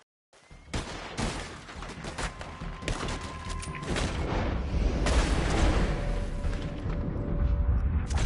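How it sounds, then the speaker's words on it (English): A chaotic gunfight in Red Dead Redemption 2, dense overlapping gunshots and booming blasts building in intensity, loud and continuous, with no clear talking. "Just keep shooting!"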